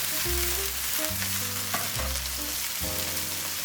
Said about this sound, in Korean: 우선 수분이 비교적 덜 있는 파부터 넣어서 살살 볶다가